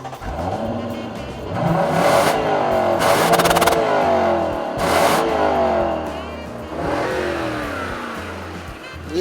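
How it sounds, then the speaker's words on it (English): A V8 car engine revs in several surging bursts that climb and fall back, loud and close, with short lulls between the pulls. "Yeah, I know it's a V8 and it doesn't sound that good"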